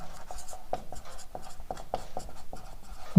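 A teacher's marker or chalk scratches across a board during a Class 12 biology lecture, making a run of short, scratchy strokes in an uneven rhythm, close and fairly clear with no talk over it.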